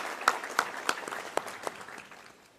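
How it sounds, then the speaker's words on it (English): An audience at a local government luncheon breaks into brief applause: a few sharp, scattered claps stand out at first, then thin out and fade within a couple of seconds. "give yourselves a round of applause"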